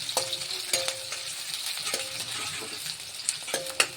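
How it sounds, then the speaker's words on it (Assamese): Onion and chili fry in hot oil in a wok, with a steady soft sizzle and repeated clinks and scrapes of a spatula stirring at an uneven rhythm, close and fairly quiet. "পিয়াজ জলকীয়াটো ভাজি কৰিব লাগিব অলপমান"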